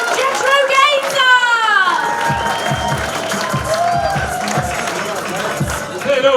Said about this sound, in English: Can you please put your hands together in a clapping motion? Clapping, clapping, louder, louder!